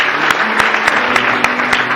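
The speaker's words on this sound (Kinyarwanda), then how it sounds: "reka dukomere Imana yacu amashyi." A church congregation claps together in a steady, rhythmic beat of sharp, evenly spaced claps, loud and close, with a faint murmur of voices underneath.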